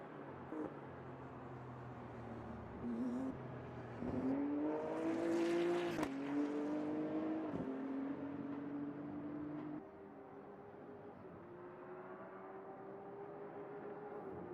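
A race car in the video game Motor Mania drives toward the finish line, its engine a faint, steady whine that rises in pitch as it accelerates and then settles into a lower drone.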